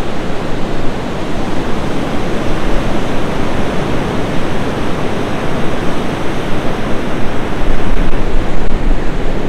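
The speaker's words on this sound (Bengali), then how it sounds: "সামনে এই সমুদ্র, ঢেউ একের পর এক আসছে পড়ছে" Sea waves break one after another on Baina Beach in South Goa, a loud, continuous roar of surf with rolling swells and some wind buffeting, with no voices.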